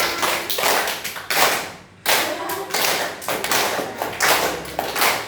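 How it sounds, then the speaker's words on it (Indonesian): Repeated hand claps in quick bursts, close and fairly loud, with brief pauses between groups. "tepuk tangan."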